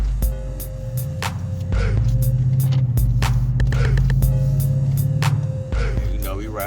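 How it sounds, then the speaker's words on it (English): Deep, steady exhaust drone from a BMW 750Li F01 with a muffler delete, a loud, continuous throbbing rumble that holds for several seconds inside the car with faint clicks over it. "don't know if y'all can hear how good that thing sound with the goddamn muffler deletes"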